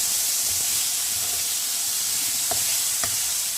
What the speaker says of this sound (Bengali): আদা কাঁচা লঙ্কাটা দিয়ে কষিয়ে নিচ্ছি।